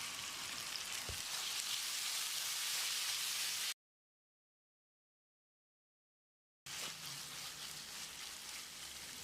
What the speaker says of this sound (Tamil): 1 டீஸ்பூன் உப்பு சேர்த்து தக்காளியை மசிகிற அளவுக்கு வதக்கிடலாம்